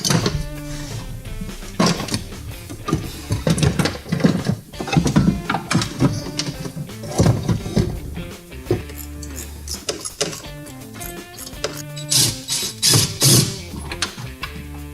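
Screws are driven in to mount an MTX Audio RZRXP-10 amplified subwoofer enclosure in a Polaris RZR, giving close, busy mechanical whirring and ratcheting bursts that repeat throughout with little pause.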